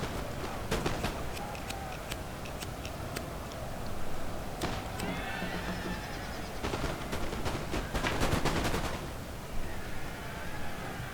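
Sharp musket-like gunshots crackle in scattered volleys and bursts amid a dense, rumbling battle din as chasseur cheval cavalry charge into foot guards in a video game, with hoof-like patter under the continuous noise.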